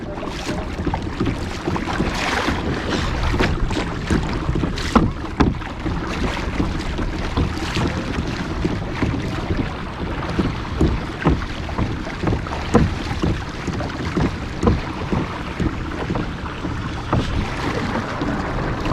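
Hobie Outback kayak moving fast across open water in wind, with continuous rushing water and gusty wind buffeting the microphone, plus scattered knocks and splashes, loud and close.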